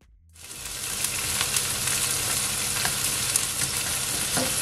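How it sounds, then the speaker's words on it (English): Chopped onion hits hot oil for chicken chow mein, and a sudden sizzle flares up after a brief silence. It holds as a bright, even frying hiss with light crackles, close to the pan. "Just add my onion. So guys, I'm just gonna allow it to saute for 20 seconds."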